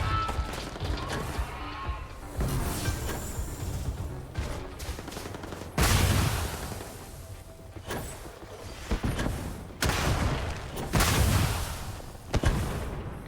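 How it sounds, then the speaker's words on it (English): Enemy gunfire in the space action game Starfield, repeated bursts of shots and impacts arriving in loud clusters separated by brief lulls, with rumbling mechanical game sounds underneath. "They're shooting at me, but they're not doing much damage."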